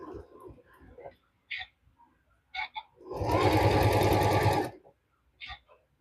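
A sewing machine runs in one steady, close burst of rapid stitching for about a second and a half while fabric stars are pieced together. Brief speech and small handling sounds come before and after it.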